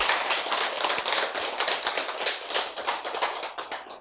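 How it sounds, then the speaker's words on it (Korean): Audience applause at a Korean health lecture, a dense steady patter of many hands clapping in a hall, fairly loud and continuous throughout with no voices over it. "박수"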